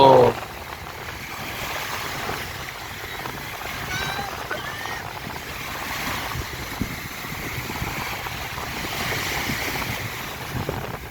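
Black Sea surf at Hamsilos near Sinop rolls in with a broad washing roar that swells and recedes, mixed with gusty wind buffeting the microphone; a voice is briefly heard at the start.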